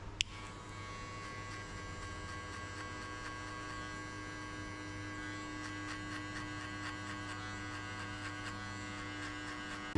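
Electric hair clipper buzzing steadily during a buzz cut, a constant close hum with rapid ticking at the blade, even in level throughout with no talk.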